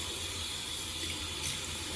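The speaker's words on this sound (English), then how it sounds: "So I put water on my face" Tap water running into a sink while a face is washed, a soft steady hiss of flowing water, faint and continuous with no talking.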